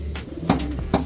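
Racing pigeons give soft, throaty coos in a quick burst of two or three low calls. They sound close, with steady background noise behind them.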